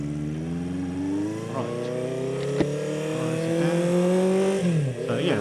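A classic motorbike engine runs steadily on a test ride after maintenance, with harmonic tones gradually rising as it pulls away, then a quick dip and rev near the end, while a person speaks briefly over it.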